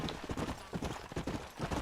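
Horse hooves clip-clop in a quick, quiet rhythm in the Red Dead Redemption video game, several horses moving together at a trot.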